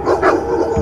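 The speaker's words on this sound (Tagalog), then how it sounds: "grabe na talaga ang tahol ng mga aso" Dogs give a single quick, loud bark up close, a short sharp yelp that cuts off within a second.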